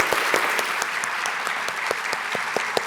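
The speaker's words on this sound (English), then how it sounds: "Round of applause." An audience at a health policy conference session applauds the panel, a brief steady burst of clapping with a few sharper individual claps standing out.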